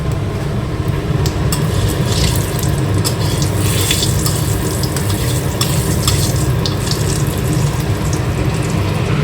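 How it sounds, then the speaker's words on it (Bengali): Bay leaves and cumin seeds sizzle in hot oil, a dense, steady crackling hiss up close with occasional stirring scrapes and no voices. "ফোড়নে দিয়ে দেওয়া হচ্ছে তেজপাতা আর জিরে"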